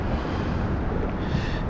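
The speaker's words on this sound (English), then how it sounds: "It's so windy out here." Steady, loud wind buffeting the microphone outdoors by a bridge in downtown Fort Myers, a constant low rumble with no pauses and no voices.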